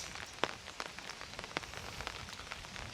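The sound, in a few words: light rain falling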